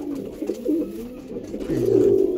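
Breeder pigeons coo in a steady, throaty rolling series, close and fairly loud, with several overlapping calls and no talking.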